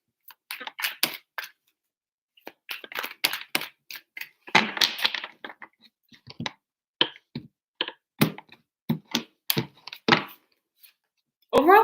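Tarot cards shuffled three times for a Virgo reading, giving bursts of crisp riffling and snapping taps with short pauses between, close and fairly quiet.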